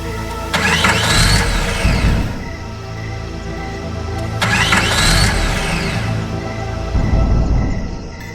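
Two bursts of a car engine cranking, each grinding for a second or two and dying out without catching, separated by a lull with a low rumble underneath; loud and close, with no talk.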